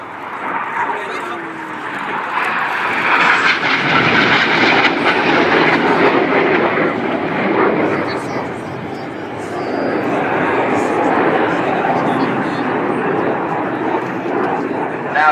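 RAF Red Arrows jets fly an aerobatic display at the RAF Cosford Airshow, a loud, steady jet roar sweeping overhead and rising again, with a commentator's voice carrying over the noise.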